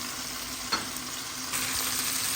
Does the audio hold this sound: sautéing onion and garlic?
yes